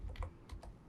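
Fast typing on a computer keyboard: a few quick, light key clicks in short bursts, faint and close, with no talk over them.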